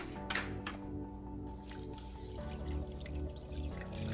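Water running and splashing into a cooking pot over salt, a steady liquid trickle with drips, close and moderately loud with no talking.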